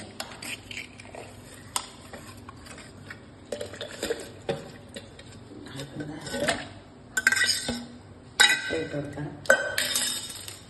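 Frozen chunks of milk ice are dropped into a mixer jar for a banana shake, scattered hard clinks and knocks against the jar, with someone talking quietly between the drops.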